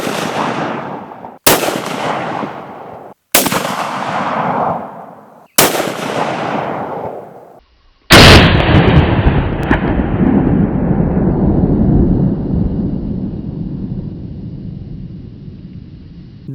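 Five loud suppressed shots from a Howa 1500 Superlite hunting rifle fitted with a JTAC Screech Owl suppressor, spaced about two seconds apart, each with a sharp crack and decaying tail, the last followed by a long rolling echo.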